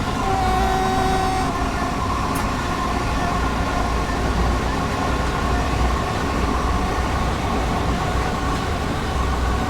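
Another train passes by in Train Sim World 3 on the Dartford to Gillingham route, a dense, loud rumble of rolling wagons that fills the scene, with a faint horn-like tone early on.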